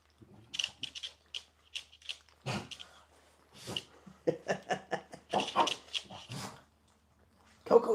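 A small pet dog at home reacting to a dog on the television, making a run of close, irregular yips, whimpers and short growling noises in clustered bursts with quiet gaps.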